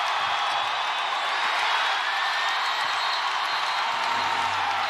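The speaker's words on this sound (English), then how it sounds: "This crowd." A basketball arena crowd cheers in a dense, continuous roar that stays loud and steady throughout, with no individual voices standing out.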